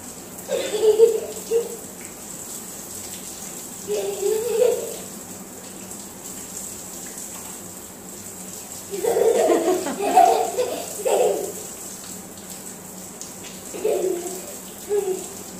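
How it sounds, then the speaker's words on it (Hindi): Running water during a young girl's bath, a steady faint wash under several bursts of a voice and a child's chatter, with brief laughter. "नहीं पीहू, खड़ी हो, खड़ी हो के नहाओ अच्छे से, खड़ी हो जाओ"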